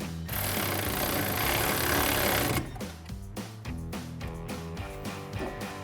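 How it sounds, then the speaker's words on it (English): A 6mm Allen socket on a power driver runs a bolt down on the side rail of a Retrax retractable tonneau cover on a 2019-2024 Sierra 1500, a loud continuous whir for about two seconds followed by several short rattling bursts. "grab a 6mm Allen socket and tighten it down"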